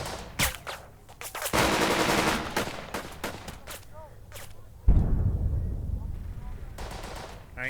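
Squad gunfire in the WWII tactics game Burden of Command, Casablanca battle: bursts of rifle and machine-gun fire crack in close succession, with a heavy salvo midway and sustained rattling volleys, loud and dense throughout.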